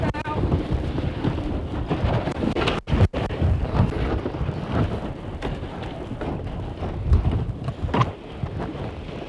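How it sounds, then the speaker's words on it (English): A strong wind gust buffets a high-performance sailboat, loud roaring and rumbling wind across the microphone with thumps and flapping throughout. "got a big gust to windward"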